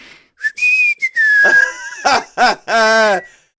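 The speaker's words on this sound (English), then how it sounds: "Whistling without my mouth moving." A person whistles a few short, clear, sliding notes up close, broken by breathy sounds and a brief throaty noise.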